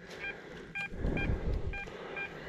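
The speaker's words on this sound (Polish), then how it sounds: "Tutaj mam jakiś sygnał" A metal detector gives a series of short electronic beeps, about five evenly spaced tones, over rustling and a low rumble of movement outdoors in a forest.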